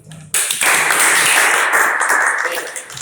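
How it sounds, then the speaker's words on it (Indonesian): A class of students applauding after a group presentation, a sudden burst of dense, close clapping that starts abruptly and carries on steadily for a few seconds. "Kita beri aplaus"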